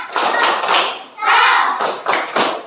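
Children joining in an Indonesian classroom 'tepuk semangat' clapping chant: loud, close bursts of claps and chanted voices in short rhythmic phrases with brief gaps between them.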